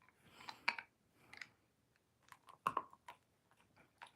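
Ginger, a dog, gnaws on a bone with faint, close, irregular crunching and clicking bites in short bursts separated by quiet pauses.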